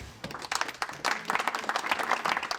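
Applause rises from an audience at the Silver Valley 2022 award ceremony, uneven bursts of clapping that swell after a brief lull and carry on fairly close, with a few individual claps standing out.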